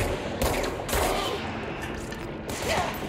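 Enemies fire at the player in the game Control: several bursts of gunfire crack out in quick succession, loud and close, spaced irregularly over a few seconds.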